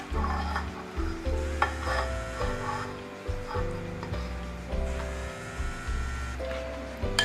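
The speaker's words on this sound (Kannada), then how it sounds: "ಇವಾಗ ಈ ಮೊಟ್ಟೆಗಳನ್ನ ನಿಧಾನಕ್ಕೆ ಇದರೊಳಗಡೆ ಹಾಕ್ಕೊಳ್ಳಿ" Egg pieces being stirred into Manchurian batter in a bowl, soft scraping and wet mixing sounds recurring under steady background music.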